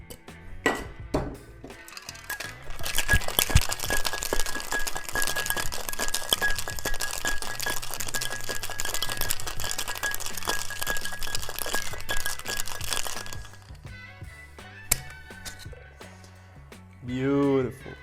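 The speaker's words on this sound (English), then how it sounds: "And shake the cocktail for 10 to 12 seconds." Ice rattles hard in a shaker while an Adios Motherfucker cocktail is mixed, a loud continuous rattle for about ten seconds over music, followed by a brief voice at the end.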